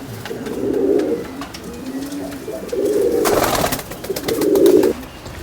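Fancy pigeons coo in repeated low, throaty bursts, three distinct rounds of rolling calls close by, with some brief rustling or wing noise between them and no talk.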